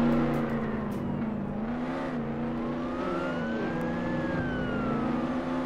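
Police siren wailing up and down in a Roblox Jailbreak chase, mixed with a car engine revving and droning steadily underneath, loud and continuous.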